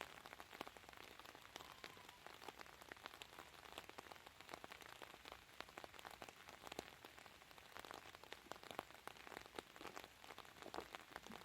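Steady heavy rain patters on surfaces throughout while a campfire is lit, a dense hiss of countless drops with no voices.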